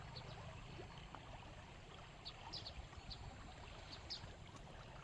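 River water flowing steadily past a village, a continuous low rushing wash with faint intermittent trickles and small bird-like chirps, fairly quiet and distant.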